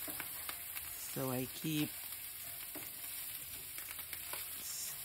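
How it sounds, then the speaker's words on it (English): Shrimp fried rice with scallion crackling and sizzling in a hot pan as it is stirred, with a soft steady fry and occasional scraping, and a few quiet spoken words over it. "Okay, so now I'm going to just add the rice."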